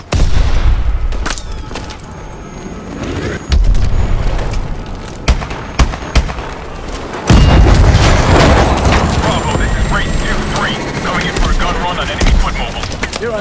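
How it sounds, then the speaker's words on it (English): A pressure explosion in the video game Call of Duty: Advanced Warfare, with several loud booming blasts and heavy rumbling crashes. Speech is mixed in among the impacts. "Pressure explosion."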